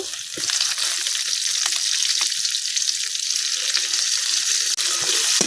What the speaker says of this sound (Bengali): পেঁয়াজের সাথে টমেটোটা কিন্তু আমি কিছুক্ষণ বাজিয়ে নিছি